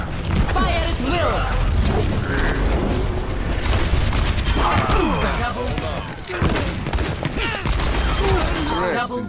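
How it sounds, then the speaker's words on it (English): Rapid rocket barrage explosions in the video game Overwatch, a dense continuous fusillade of loud bangs and mechanical clattering with overlapping game voices and effects throughout, staying intense for the whole stretch. "Rocket barrage."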